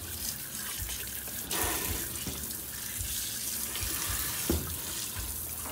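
Tap water runs steadily into a sink to rinse something, a dense constant rush that swells slightly partway through, with no one speaking.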